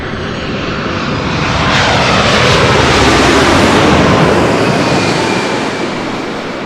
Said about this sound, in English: he had a heavy about to fly over his head